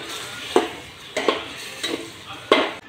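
A spoon stirs mung dal khichdi with rice, hing, curry leaves and turmeric in a pot, making four evenly spaced scraping strokes over a soft steady sizzle.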